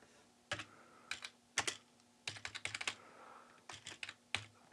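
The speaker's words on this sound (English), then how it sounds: "Not so easy to type at an angle." Typing on the Aquarius+ retro computer keyboard, held at an angle: uneven clusters of crisp key clicks with short pauses, close and alone.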